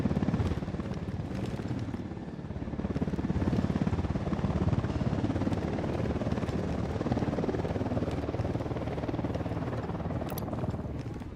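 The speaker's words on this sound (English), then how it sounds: "Hit the dirt. Helicopter." A helicopter in the video game Ghost Recon: Wildlands drones steadily overhead, its low rotor chop continuous and fairly loud, with a little indistinct voice activity mixed in.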